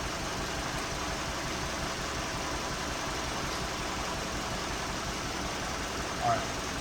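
A 2017 Hyundai Sonata engine idles steadily with ignition coil 4 unplugged, a low, even rumble running without interruption and at a constant moderate level throughout.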